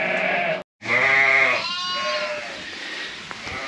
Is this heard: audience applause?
no